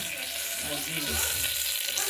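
Dry red chilies and bay leaves fry in hot mustard oil in a pressure cooker, a steady bright sizzle with some low bubbling that carries on at an even level throughout.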